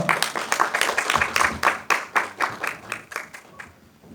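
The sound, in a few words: audience applause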